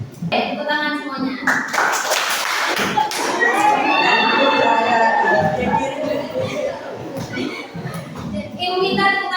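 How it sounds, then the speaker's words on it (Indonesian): Children in a classroom clap their hands together in a loud burst of sharp, repeated claps, mixed with thumps and shuffling, while a teacher and kids talk throughout. "Tepuk tangan semuanya."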